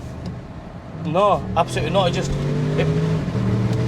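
A Bentley Bentayga S with a V8 engine hums as a low, steady drone while driving on the road, rising slightly at moments, under someone talking close to the microphone.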